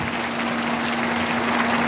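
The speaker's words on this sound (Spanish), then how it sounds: "Un fuerte aplauso" Audience gives a loud round of applause for a lecturer after his talk, a continuous dense wash of clapping with a steady hum underneath.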